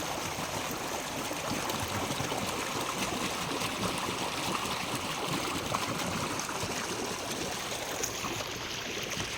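Steady, continuous rush of flowing water, like a stream running nearby, with no voices and an even level throughout.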